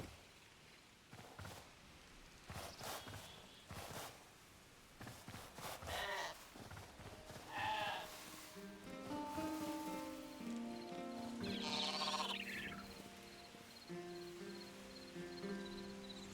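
Sheep bleat in the video game Hytale: a few short bleats over soft rustling and rain-like ambient noise, fairly quiet and spread across the scene.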